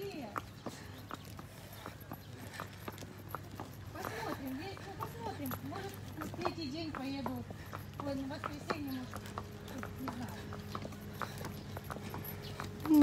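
Hooves of a horse walking in a steady clip-clop during dressage practice for a children's elementary test, heard under ongoing conversation between people nearby.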